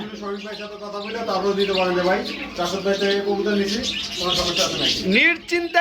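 Pigeons and other birds at a crowded bird market, cooing and chirping steadily throughout, with strong harmonic calls close by and a busy, continuous background.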